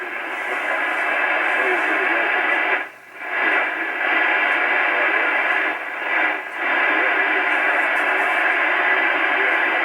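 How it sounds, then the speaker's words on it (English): An Icom 730 receiving on 80 meters through an indoor antenna and an MFJ-969 tuner gives off a loud, steady hiss of radio noise that dips briefly twice. "A lot more noise. That's with the indoor antenna,"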